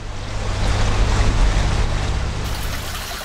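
Steady rushing water from a running shower fills the clip, a broad constant hiss with a low hum underneath and no talking.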